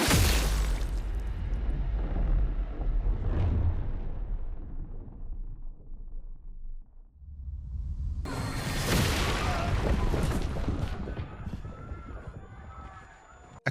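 An explosion in the video game Clair Obscur: Expedition 33, a loud sustained roaring blast that fades to a low rumble, then erupts again into a second dense burst of debris and crackling.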